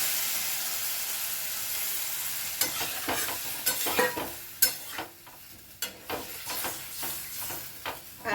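Pumpkin simmering in a pan with added water, giving a steady hiss of sizzle and steam with scattered clicks and scrapes of stirring, close and moderately loud.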